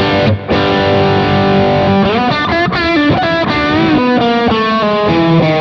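Loud overdriven electric guitar through a Tone City Golden Plexi pedal on the bridge pickup, gritty distorted tone playing a sustained chord, then a run of bent and sliding notes, close and continuous.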